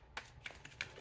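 A deck of cards is shuffled by hand at close range, a brief run of quick, soft papery flicks and clicks, faint and without any talking.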